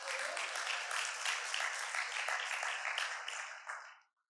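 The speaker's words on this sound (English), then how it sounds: "Can you guys give a big round of applause to Hannah?" An audience gives a round of applause, a dense, even patter of many hands that holds steady before fading out quickly near the end.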